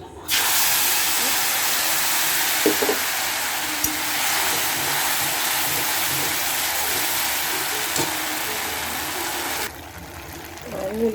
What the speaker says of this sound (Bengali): এবার আমি তেলে দেবো বেটে রেখেছিলাম